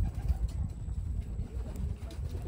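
A racing pigeon coos in low, soft repeated phrases at close range, with a steady murmuring character and a few faint clicks.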